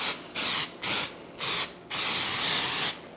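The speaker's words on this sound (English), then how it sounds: "I'm spraying it with some regular pan baking spray" Four short hissing bursts of baking spray into a loaf pan, followed by one longer continuous spray, close and loud, with brief pauses between.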